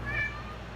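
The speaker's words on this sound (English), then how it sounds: "that was my cat." A pet cat meows once, close and clear, a short rising then falling call with a faint background hum and no talking.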